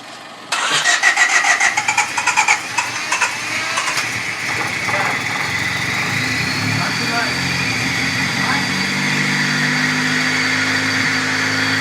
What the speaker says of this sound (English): here's my car running.